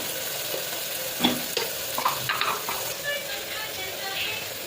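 Spices, tomato and roasted gram powder stir-fry in a pan while making girmit. A dense, constant close sizzle runs throughout, with scattered scrapes and taps of a spoon stirring against the pan.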